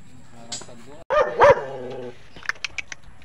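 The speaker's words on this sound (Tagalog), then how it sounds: "malaking aso. Yan ang aso na dito." A few deep barks from a big dog ring out close by, followed by quieter short yips, with a person's voice mixed in.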